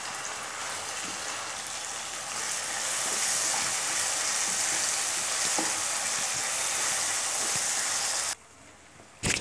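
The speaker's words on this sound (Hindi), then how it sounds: "टमाटर डालकर हमें इसे अच्छे से पकने देना है।" Tomatoes cook in a pan for sarson ka saag, giving a steady close sizzle and fry with occasional stirring clicks, then the sound cuts off abruptly near the end.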